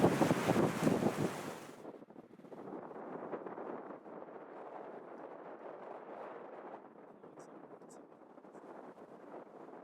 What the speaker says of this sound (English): Oh, dangerous with this wind.